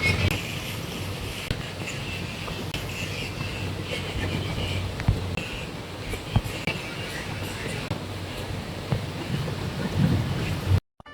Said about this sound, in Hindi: कंटिन्यूअसली बारिश गिर रही है